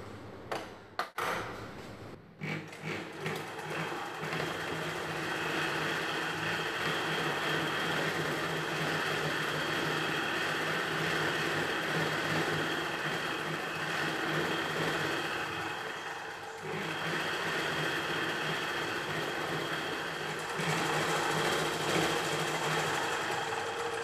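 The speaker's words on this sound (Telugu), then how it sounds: "ఇప్పుడు ఎక్స్ట్రా ఇంకొక స్టిచ్ చేసుకోవాలి." A sewing machine runs steadily and close up while double stitching a salwar seam, a continuous fast mechanical whir that dips briefly after a few start-up taps and then carries on.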